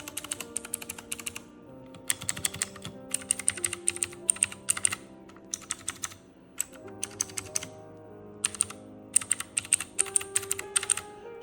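Clacking keystrokes from a mechanical keyboard with some red switches fitted, arriving in quick irregular bursts with short pauses, close and clear over a quiet backdrop of soft game music.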